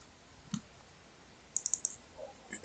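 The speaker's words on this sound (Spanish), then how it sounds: "nos vamos al puntito verde que está aquí abajo y damos doble clic" Mouse clicks on a computer while working in Mathcad Prime: a single click, then a quick cluster of several sharp, faint clicks, and a louder knock at the end, in a quiet room.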